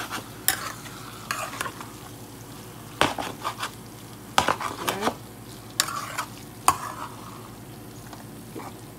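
A spoon scrapes and clatters through a pan of frying spinach as meat is stirred in, giving repeated stirring strokes over a quiet, steady sizzle.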